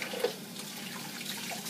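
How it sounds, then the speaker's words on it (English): Tap water runs steadily while hands are washed under it at a sink, a quiet continuous broadband rush with a small splash near the start and no talking. "wash my hands again."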